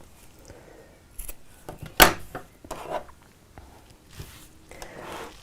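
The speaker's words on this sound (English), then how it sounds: "so I'll just trim this down to size" Scissors snip through fabric quilt binding on a quilted tote bag, one sharp close cut standing out among a few softer snips and handling rustles.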